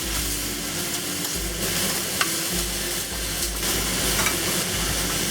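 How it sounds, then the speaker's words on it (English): Chicken wings searing in a hot pan, a close, steady sizzle with occasional scraping and stirring of the utensil, heard alone without any talking. "We'll let it sear on the other side for about 30 seconds also."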